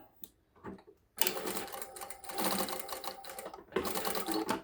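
A Sewtech SW-1968-L sewing machine runs close by in short bursts, a brief pause and then a longer steady stitching run as it sews forward and backward, stopping and restarting near the end.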